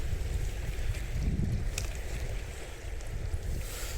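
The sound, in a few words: wind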